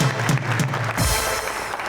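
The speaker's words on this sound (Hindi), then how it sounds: "रज़िया की पूरी टीम के लिए ह्यूज राउंड ऑफ अप्लॉज" Studio audience on a talk show breaks into broad, sustained applause for a team, a dense wash of clapping at close range with no talk over it.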